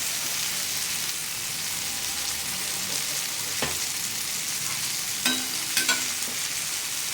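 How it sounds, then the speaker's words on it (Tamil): Food sautéing in hot oil in a pan, a close, steady frying sizzle that runs throughout, with a few sharp scrapes of stirring near the end. "இப்படி வதக்கிட்டு"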